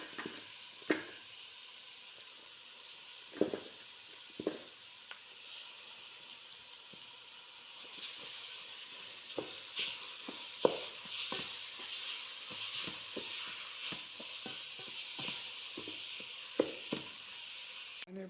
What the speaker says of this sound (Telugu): ఆనపకాయ ఫ్రై అయింది కొంచెం.